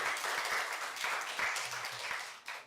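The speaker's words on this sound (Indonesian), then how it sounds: "tepuk tangan dulu dong." Applause in a classroom after a high school mathematics presentation, a short burst of clapping from a small group of students that fades out near the end.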